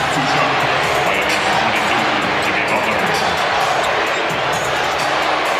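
A loud crowd roars continuously at a Miami Heat basketball game away from home, a dense sustained wash of cheering with voices talking close by.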